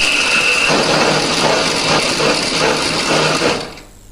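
A blender grinds coriander and curly chili with water in a steady, loud whirring drone. It runs continuously for about three and a half seconds, then fades out.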